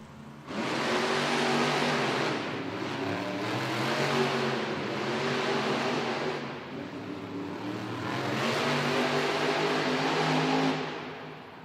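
Monster trucks roar through a race at a Monster Jam arena event in Hampton, Virginia, engines revving loud and continuous for about eleven seconds, swelling and easing with throttle changes.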